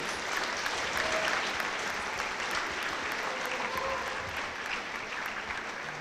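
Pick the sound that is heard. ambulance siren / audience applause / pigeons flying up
audience applause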